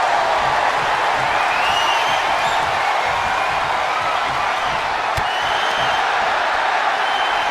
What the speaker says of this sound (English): The crowd is hyped up for this one.